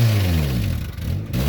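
Honda Civic engine revving hard during a 5th gear clutch dump, a loud, close mid-pitched roar whose pitch sags, briefly drops off, then climbs back up.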